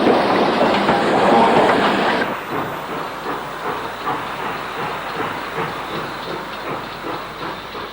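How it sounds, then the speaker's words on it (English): An LMS Black 5 steam locomotive, Derby-built, rumbles into Wigan Springs Branch shed with a broad, continuous roar of steam and rolling wheels that drops to a steady, rhythmic clatter as it slows. "Derby-built Black 5 arrives on the Wigan Spring Bank shed"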